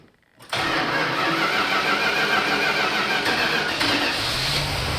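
A 1987 Dodge Ramcharger truck engine with a carburetor fires up after a brief quiet moment and settles straight into a loud, steady, rumbling idle close by.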